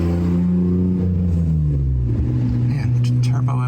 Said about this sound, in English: man, Turbo M3, young kid, driving like an idiot through my neighborhood